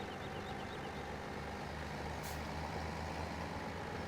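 A 7840 tractor with crop tires in Farming Simulator 17 runs with a steady, low engine drone at moderate distance, with a brief airy hiss partway through.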